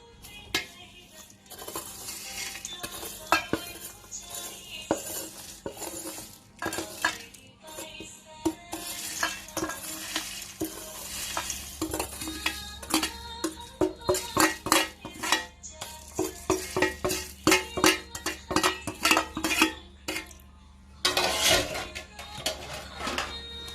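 Ingredients for a Thai crispy chicken chili paste are stirred and tossed together in a bowl, with irregular scraping, clinking spoon strikes and rustling that grow busier and louder toward the end.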